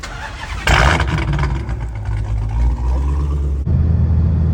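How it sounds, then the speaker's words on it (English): A Dodge Hellcat V8 fires up with a loud cranking burst and settles into a deep, rumbling idle with a brief blip near the end, heard close and alone. "It's time to start up the Hellcat."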